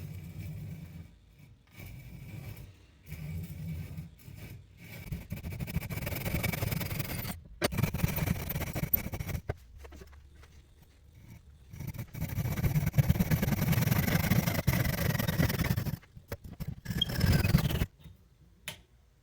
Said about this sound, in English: We're going to be cutting the joint to just get this saw to ride in that groove made by the other one.